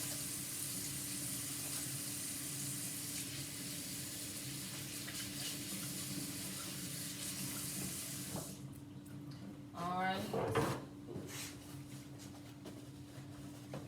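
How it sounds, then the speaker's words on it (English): Tap water runs steadily into a kitchen sink while hands are washed beneath it, a broad close hiss for about eight seconds before the flow stops, followed by a few faint wet rubbing and drying sounds. "I'm going to come over here to my handy dandy sink and I'm going to wash my hands"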